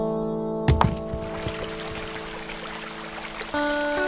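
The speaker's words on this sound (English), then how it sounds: "Moses was to take his staff and strike a rock, and water would come out of it." Water bursts out with a sudden splash after a strike on a rock with a staff, then keeps pouring and splashing steadily under a held musical tone, in an animated Bible story.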